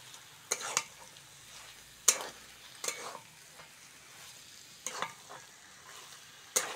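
Cabbage curry sizzles quietly in a pan while a spoon stirs it, giving soft frying hiss broken by several sharp scraping clinks at irregular intervals, close and alone.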